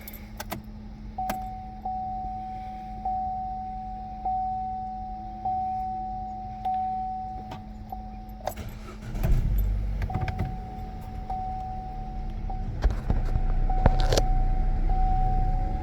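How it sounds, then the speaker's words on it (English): Interior of a 2014 Chevy Cruze with a newly replaced driver's side window regulator as the power window motor runs, a steady whine broken by repeated clicks, followed by louder thumps and rumbling as the glass travels and seats. "Let's open and close the window."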